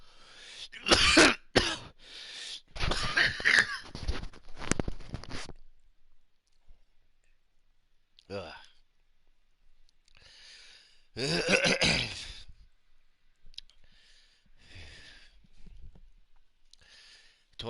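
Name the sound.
coughing and throat clearing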